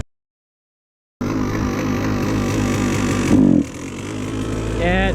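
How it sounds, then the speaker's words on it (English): A KTM 150 XC-W two-stroke dirt bike engine fitted with a Lectron carburetor runs lean with a hanging idle, a steady near buzzing drone after a silent start, swelling briefly before settling, with a voice talking over it near the end. "That's definitely hanging idle, which means it's too lean"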